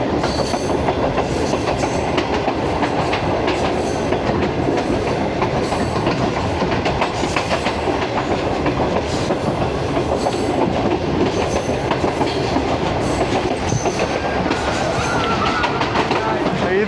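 The Bulleh Shah Passenger train on the Lahore–Kasur–Pakpattan line rolls along the rails with continuous loud clickety-clack and wagon rumble, heard close and steady throughout, with voices faintly mixed in.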